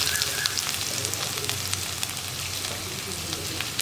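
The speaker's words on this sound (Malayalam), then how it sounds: "നമ്മുടെ വെളിച്ചെണ്ണ നന്നായിട്ട് ചൂടായിട്ടുണ്ട് നമുക്ക് ഇഞ്ചി വെളിച്ചെണ്ണയിലേക്ക് ഇടാം" Ground ginger frying in hot coconut oil gives a steady, dense sizzle with fine crackling pops, close and even throughout, with no voices.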